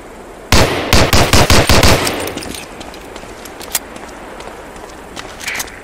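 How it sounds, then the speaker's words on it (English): Six rapid, loud shots from a .45 pistol crack in quick succession in the Medal of Honor: Allied Assault tutorial, their echoes fading into quieter ambience with a few faint clicks afterward. "Try a couple of shots on that target with your 45."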